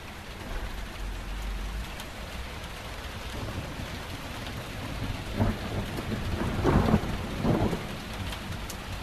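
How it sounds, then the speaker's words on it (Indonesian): Steady heavy rain pours down while thunder rumbles low and builds, cracking louder near the end. "hujan turun dengan deras"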